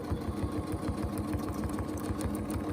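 A sewing machine runs steadily while free-motion quilting a paisley motif with teardrop curves, its fast, even needle chatter continuous and close throughout with no voice over it.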